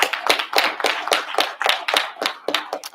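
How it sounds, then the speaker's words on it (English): Applause from an audience at a board of education public session, a few seconds of crisp, fairly sparse clapping with distinct individual claps, moderately close and without voices. "That really deserves another round of applause."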